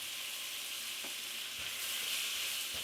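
Pasta shells browning with onion and garlic powder in a pan give off a steady, close sizzle, with a few faint scrapes of stirring along the way.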